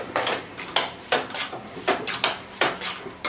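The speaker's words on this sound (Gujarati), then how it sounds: "હલાવી લઈશું" A spoon or spatula stirring adadiya, a thick sweet mixture with ginger powder, pipramul and spice powders, in a pan, making rhythmic scraping strokes that repeat steadily and close, with no voices.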